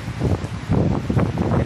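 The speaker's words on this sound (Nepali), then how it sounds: "एकदम हेर्दा कहाली लाग्दो हावा पानी आइरहेछ" A strong morning wind and rain storm in eastern Nepal roars in gusty, rumbling bursts close to the microphone, rising and falling over the short stretch.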